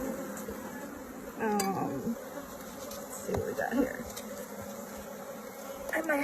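Honey bees buzzing steadily at an open top bar hive, a dense close drone with a few louder passes of individual bees near the listener.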